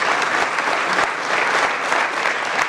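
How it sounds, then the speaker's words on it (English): Sustained audience applause fills a hall at a General Motors event, a dense, even wash of clapping from a large crowd with no talk over it. "So let's give GM and Mark Royce a round of applause."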